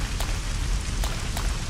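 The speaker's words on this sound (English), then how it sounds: "it's raining." Rain falls in the video game Resident Evil Code: Veronica X, a steady, dense hiss with a few faint drop-like ticks across a short stretch.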